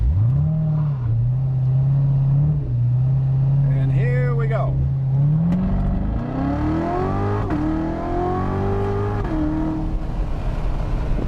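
A 2017 Corvette Z06 engine holds a steady high idle, then revs hard as the car launches on launch control and pulls through gears, loud and close, with someone speaking briefly over it.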